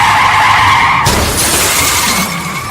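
Car skidding toward a collision in a TV advert, a loud sustained tire screech that cuts off abruptly into a sharp noisy burst like an impact, then fades under road rumble, with no voices.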